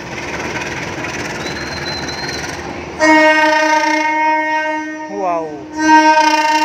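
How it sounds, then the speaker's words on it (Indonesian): A diesel locomotive shunts at a railway station under a steady engine rumble, then lets out long, loud, close horn blasts with a brief pitch dip midway, while a voice exclaims. "itu dia langsiran lokomotifnya"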